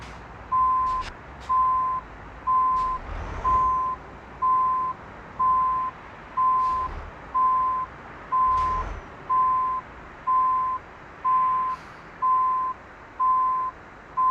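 A heavy truck in Euro Truck Simulator 2 backs up with its reversing alarm. The steady, even electronic beep repeats about once a second, loud and close, over a low engine rumble.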